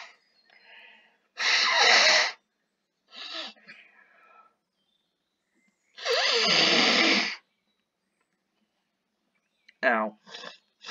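A person blows their nose in two loud, forceful bursts about a second long each, close to the microphone, with some speech and short noises between them.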